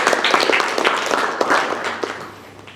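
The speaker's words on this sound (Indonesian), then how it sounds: "Kasih tepuk tangan yang luar biasa untuk kelompok 2." An indoor audience of students applauds a presenting group in a university biology class, a dense patter of many hands clapping close by that tapers off toward the end.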